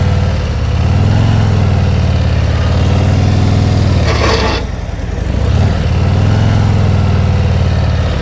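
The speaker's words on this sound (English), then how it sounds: "that's why I'm listening to my engine" Motorcycle engine idling and ticking over at low speed during slow-speed riding practice, a steady close, loud rumble that briefly dips for a moment before settling back to an even drone.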